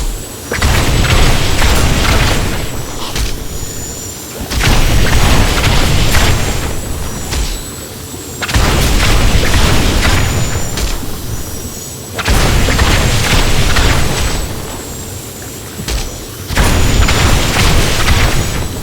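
Wand of Woh blasts in a video game go off as four or five heavy, booming explosions, each a loud burst that rolls on for a few seconds before a brief lull, with no talk.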